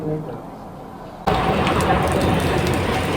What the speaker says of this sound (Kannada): ಮಳೆ ಬೇರೆ ಬಿಟ್ಟಿಲ್ಲ.